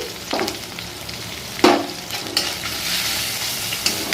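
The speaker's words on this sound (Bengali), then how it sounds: "এটা ভালো করে একটু কষিয়ে নিই" Chopped green chillies with salt and turmeric fry in oil, a continuous hissing sizzle broken by a few sharp spatula scrapes against the pan, close by, without speech.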